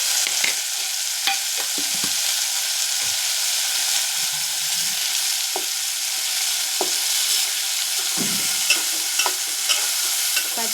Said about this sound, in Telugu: పచ్చి వాసన పోయేదాకా తిప్పండి, వేగండి.